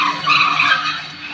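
A car arrives and skids to a stop in a film action scene, giving a loud, close tire screech with engine noise that fades slightly at the end.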